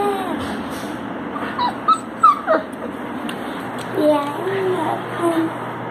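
A basket of nine young puppies gives off soft, high whimpers and yips, several brief cries rising and falling close by over a faint background hum.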